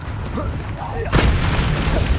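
A Depulso spell cast in the video game Hogwarts Legacy lands as a sudden booming blast about halfway through, followed by a rumbling wash, with a voice heard before the hit.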